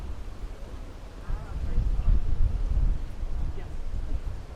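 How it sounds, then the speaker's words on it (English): Wind gusting outdoors near a park in Tenerife, a broad low rushing noise that swells and buffets the microphone, steady and without speech. "A little bit windy"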